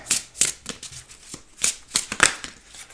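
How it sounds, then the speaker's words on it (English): Rapid bursts of tarot cards riffling and slapping together as they are shuffled, repeated in quick irregular rhythm, close and crisp with no talking. "I just shuffled and there she is again."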